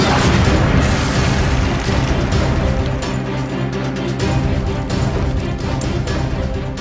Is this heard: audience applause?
no